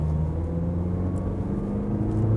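A Jaguar F-PACE S SUV with a 3.0 diesel engine pulls hard from 40 to 70, its steady low engine drone and road rumble heard from inside the cabin, with no talking.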